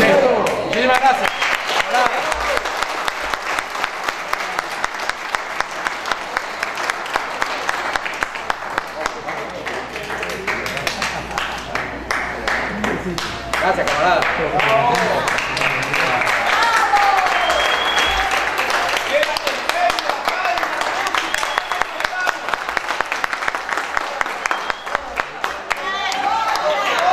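Audience applause at a singer's recital at a gathering of intellectuals: sustained, loud clapping from a crowd lasting throughout, with people speaking over it.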